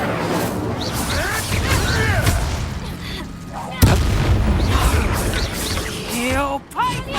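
Incendio fire spell blasts and combat impacts in Hogwarts Legacy, with loud booming bursts and whooshes, one sharp crack near the middle, mixed under shouted spell voices and game dialogue.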